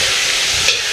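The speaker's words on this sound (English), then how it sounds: "You hear that popping sound? Yeah. That is from the fat." Fat popping and sizzling hard in a hot frying pot while chunkay is being cooked, a dense, loud, continuous crackle heard up close.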